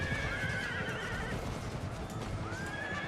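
Horses neigh and whinny amid a battle in Empire: Total War, with dense clip-clopping hooves and the rumble of cavalry; loud, continuous, with no talk.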